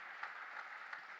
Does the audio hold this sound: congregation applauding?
yes